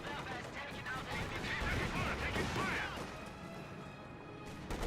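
Dense gunfire and explosions from the Company of Heroes 2 battlefield roar continuously, with machine-gun bursts and crashing impacts layered into a loud, unbroken combat din.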